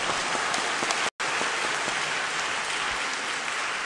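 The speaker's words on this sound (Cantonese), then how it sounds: "俾啲掌聲佢好唔好？" Dense, steady applause from a seated audience fills the room, with a brief cut to silence just after the first second before the clapping resumes at the same level.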